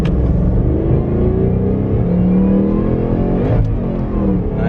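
A 775 hp Ford Mustang accelerates with a loud, close engine roar heard from inside the car. The pitch sweeps upward through the gears for nearly five seconds, with a brief shift break near the end.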